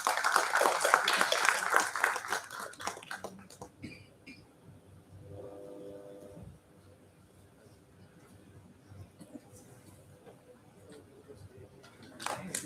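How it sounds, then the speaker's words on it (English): An audience at a national seminar claps for a guest of honor, loud applause in the first few seconds that quickly fades out, leaving faint room noise with scattered small sounds. "A big round of applause."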